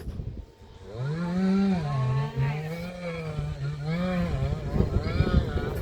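A chainsaw cuts timber salvaged from a burned forest near Koldagh in Turkey, its engine droning steadily and rising and falling in pitch through repeated revs, fairly close and continuous.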